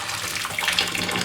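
Tap water pours steadily into a container for a hot water bath that keeps a PCB etching solution warm, a close, continuous splashing hiss with no voices.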